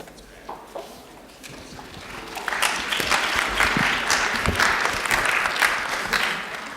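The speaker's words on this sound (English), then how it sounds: "Let's give a huge round of applause to Dr. LaVeist and our panel" Applause from an audience at a panel discussion, swelling from scattered claps into sustained, dense clapping that fills the room and continues to the end.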